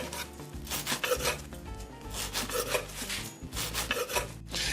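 A real knife saws through bread on a cutting board for chocolate Kahlua bread pudding, giving steady rasping strokes in a repeated rhythm, close and clear with no talk.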